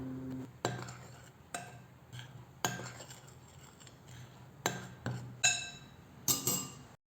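Garlic paste and salt mixed in a bowl for a KFC-style chicken popcorn coating: a utensil strikes the bowl in sharp, irregular clinks and taps, each ringing briefly, with quiet gaps between.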